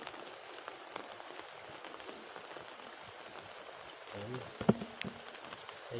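Heavy rain falls steadily beside a full canal near a house, a dense even hiss with a short louder clatter near the end.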